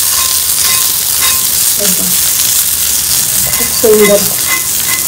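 Surmai fish crisping in a shallow layer of hot oil, a loud steady sizzle throughout with a couple of brief scrapes from stirring and a short spoken remark.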